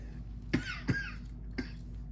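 Three short coughs, two close together and a third after a pause, over a quiet steady hum.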